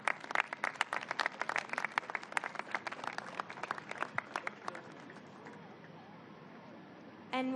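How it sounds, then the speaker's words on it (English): Applause for speakers at a press event on FIFA World Cup 2026 announcements, a cluster of sharp, irregular claps from a modest crowd that thins out over several seconds before a voice comes in at the end. "Another round of applause."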